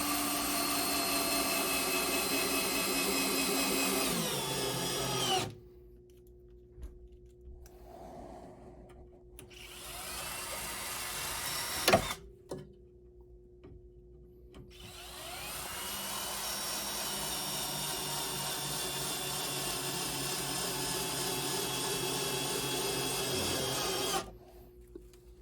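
A power drill drives screws for L bracket shelves into wood studs in an unfinished basement, with several long, steady, whining runs separated by pauses and a sharp knock in between.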